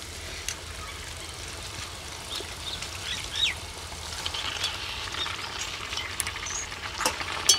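Chicken meat in hot spiced oil, village cooking over a wood fire: a faint, steady sizzle and crackle with scattered small pops and clinks, low and continuous throughout.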